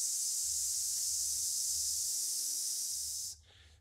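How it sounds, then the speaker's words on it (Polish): A long, steady hiss of breath pushed out through clenched teeth during a core-strengthening exercise holds evenly for over three seconds and then cuts off abruptly, with a faint low hum beneath it. "Przez zaciśnięte zęby postaraj się syknąć, tak jak zrobiłem to teraz."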